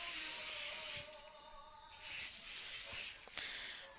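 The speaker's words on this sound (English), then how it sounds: "And then spray again lightly on top." Cooking oil spray misted lightly over baking paper lining a pan for brownies, giving a few short close hissing bursts separated by brief pauses.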